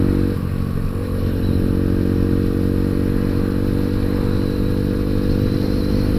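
A Sinnis Apache 125 supermoto motorcycle runs at a steady, loud engine drone while riding, with wind rumble and no speech.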